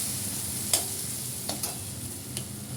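Soaked lentil bori frying in a pan under a faint, steady sizzle, with a few sharp scraping stirs spaced apart and no voices.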